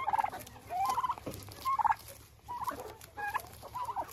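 Turkeys in a chicken coop let out a series of short, repeated gobbles at fairly regular intervals, with one low thump partway through.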